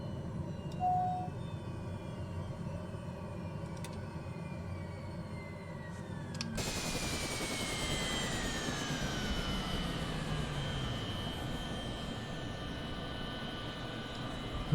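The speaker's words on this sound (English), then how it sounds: "So, switch off. Engine goes to idle." A TBM930 turboprop engine in a flight simulator spools down through shutdown. A steady engine whine and hum cuts to a different tone about halfway, then falling tones continue at a moderate, even level with no voices.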